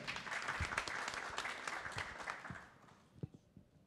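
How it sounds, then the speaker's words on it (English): An audience gives Danny a round of applause, a burst of many hands clapping that stays full and close for a couple of seconds before thinning into a few scattered claps. "Ladies and gentlemen, give Danny a round of applause."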